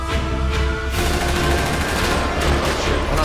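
Sustained automatic gunfire in GTA 5 roleplay, a dense, loud fusillade of rapid shots rattling continuously throughout with bursts swelling near the end, no voices over it.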